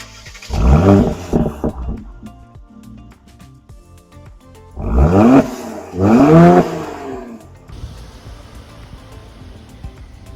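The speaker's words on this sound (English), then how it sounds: "Sport Plus is the most aggressive and gives the exhaust a nice burble." A Mercedes C450 AMG twin-turbo V6 in Sport Plus mode gives two loud exhaust bursts, each a revving roar with deep burbling that rises and falls, separated by quieter idle rumble.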